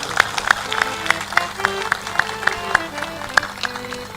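A sparse scattering of applause at a spoken sermon gathering, sounding like only a handful of people clapping unevenly, heard under a voice.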